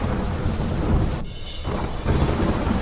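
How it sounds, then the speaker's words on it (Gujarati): Torrential monsoon downpour in Aravalli district, Gujarat, a dense roaring wash of rain with a heavy rumble of thunder building and fading, briefly dipping before the steady hiss returns. "અરવલ્લી જિલ્લામાં ધોધમાર વરસાદ."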